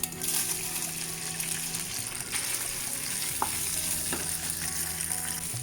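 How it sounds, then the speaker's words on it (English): Cooked pasta hits a pan of rendered bacon fat for a carbonara and sizzles loudly and steadily, with faint stirring and a couple of light clinks near the end. No one speaks. "Now we'll add in the cooked pasta."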